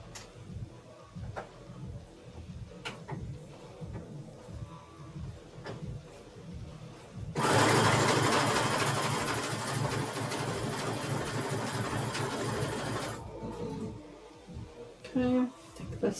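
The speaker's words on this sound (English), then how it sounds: "Let's go ahead and sew these up now." A sewing machine stitching up fabric for a quilt's borders and bindings runs for one loud, steady burst of about six seconds. Talk and light handling sounds come before and after it.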